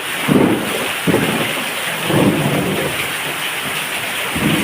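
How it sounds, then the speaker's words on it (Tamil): Heavy rain pours down in Arakkonam as a dense, continuous loud hiss, with a few stronger surges and rumbling swells rising and falling through the downpour. "சரியான மழை"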